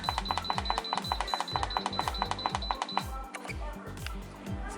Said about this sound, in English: once you hear that little beep and it says on